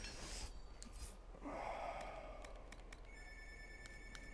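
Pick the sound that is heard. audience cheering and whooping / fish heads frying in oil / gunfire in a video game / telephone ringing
telephone ringing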